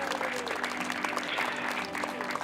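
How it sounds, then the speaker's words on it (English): A crowd at a women's lacrosse senior night applauds the seniors and their families, a steady wash of clapping with a few scattered cheers, sustained and fairly distant. "please give all the seniors and all their supportive families a warm round of applause"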